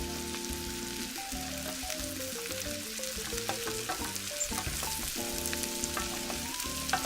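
Beans for succotash with pepper frying in a pan, a steady close sizzle with faint stirring scrapes, continuous and even throughout.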